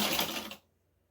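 A sewing machine runs briefly while stitching fabric for a bag holder, a close, steady mechanical whir that stops abruptly partway through.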